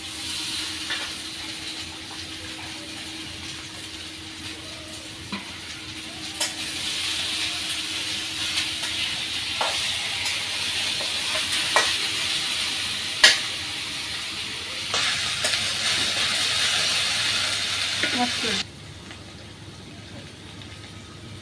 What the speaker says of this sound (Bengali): পেঁয়াজ আর মরিচ তো হালকা ভাইজে নিচ্ছি, এখন ভেন্ডিগুলো দিয়ে দিই।